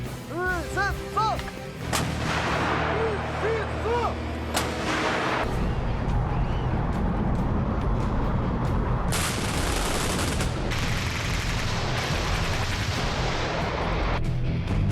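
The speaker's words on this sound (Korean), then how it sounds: "그 시작은 K281 박격포 장갑차의 사격으로 시작되는데요" K281 mortar carrier firing mortar rounds during a winter armored-brigade live-fire exercise: loud booming blasts and rumbling concussions roll on continuously, with a brief tonal whine near the start and sharp bursts later.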